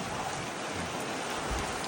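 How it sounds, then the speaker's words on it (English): Heavy rain pours down outdoors beside a wind-damaged chicken coop, a steady dense hiss of drops with no gaps, moderately loud and close. "Boy, I don't know if you can see that rain."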